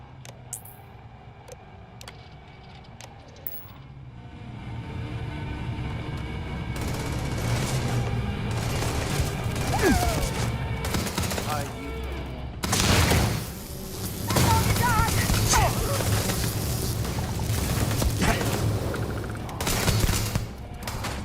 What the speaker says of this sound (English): Kind of sad to shoot up the bar